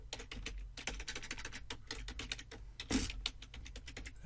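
Fingers type a password on a computer keyboard, producing a close, rapid string of crisp key clicks in an uneven rhythm, with a few heavier strokes and no voices.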